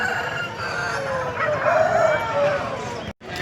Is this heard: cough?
no